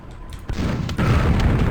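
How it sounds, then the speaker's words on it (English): Barrels blow up under gunfire in an old 16-bit DOS shooter, a couple of heavy booms rolling into a dense, sustained low rumble that stays loud through to the end. "exploding barrels bleed when you shoot them"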